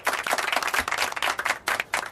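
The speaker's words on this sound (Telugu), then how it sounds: "అందరూ క్లాప్స్ కొట్టి పాస్ చేయండి" A classroom of students claps together, a dense, lively burst of many hands applauding at close range.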